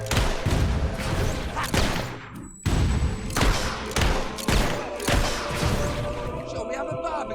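Rapid bursts of gunfire in Fable 3 crack out repeatedly in close, loud volleys, with voices shouting and talking over the shooting throughout.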